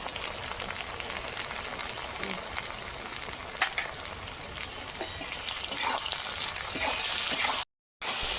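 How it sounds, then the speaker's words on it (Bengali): Chopped tomato and onion, salted, fry in a pan with a continuous close sizzle and occasional stirring, steady and alone without talk, broken by a brief dropout near the end. "টমেটো কুচি দিয়ে দিচ্ছি পরিমাণ মতো লবণ দিয়ে দেবো তাহলে টমেটো আর পেঁয়াজ খুব তাড়াতাড়ি গলে যাবে"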